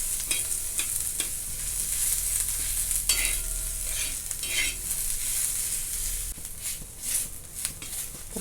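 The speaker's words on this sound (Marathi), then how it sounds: "कांदा मी छान असा सगळा सुट्टा करून घेतलेला आहे तर आपल्याला अजून एक मिनिटभर छान असं भाजायचं आहे" Onion frying in oil until golden for hotel-style chicken sukki, a continuous close sizzle with repeated stirring scrapes and a few louder spatula knocks, no voices.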